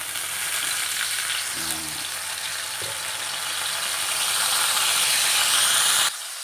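Soy sauce hits a hot pan as vegetables cook, giving a loud, steady sizzle that swells slightly before dropping off abruptly at the end.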